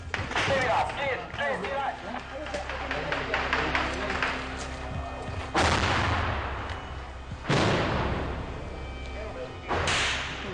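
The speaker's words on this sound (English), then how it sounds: "Suddenly, we hear heavy artillery fire." Heavy artillery fire in the Myanmar conflict, several loud booming blasts spaced a few seconds apart with rumbling tails, mixed with sharper cracks and background voices.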